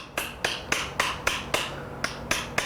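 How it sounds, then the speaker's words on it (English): A synclastic spiculum hammer strikes metal during shell forming, giving about ten sharp, evenly spaced taps at close range with nothing else heard between blows. "I could use our favorite ultimate synclastic, ultimate spiculum hammer"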